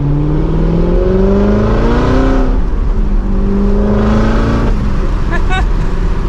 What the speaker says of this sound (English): we can at least hear a little bit of that exhaust